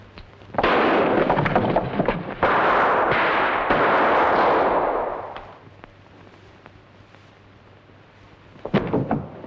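Gunfire in a crime drama standoff: a loud, sustained burst of rapid shots and blasts lasting several seconds, then fading to quiet before a final sharp pair of reports, with no talking.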